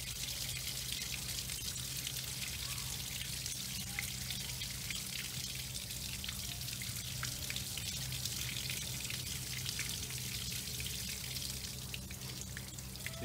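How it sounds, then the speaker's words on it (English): A steady hiss of rushing, gurgling water flows continuously with faint bubbling as air is drawn into a draining Aquablock pool filter, at a low, even level. "You can hear the air going into that as the filter's draining."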